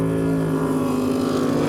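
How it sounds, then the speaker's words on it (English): Jet sprint boat with a Stinger hull and Chev engine, its V8 roaring loud and close in a steady sustained note over a short stretch, no voices. "It's a Stinger hull with a Chev engine."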